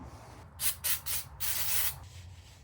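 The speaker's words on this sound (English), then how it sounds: "take some brake cleaner on a quick towel and just wipe it clean" An aerosol can of brake cleaner hisses in several short, close bursts onto a towel while a clutch part for an LS engine is cleaned.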